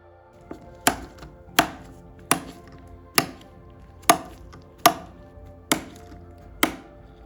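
Torque driver set to 14.5 N·cm reinstalling four T6 screws in an M1/M2 Mac mini: eight sharp, evenly spaced clicks, close and crisp, with nothing else around them.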